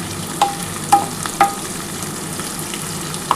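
Onions with crushed whole garam masala, including cardamom, are stirred in a pan for a potato chicken curry. Three sharp spoon taps ring against the metal over a low, steady sizzle, with no voices.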